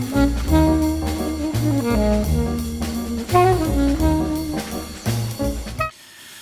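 A jazz recording plays with piano, bass and drums in a steady, swinging lilt, then cuts off abruptly near the end.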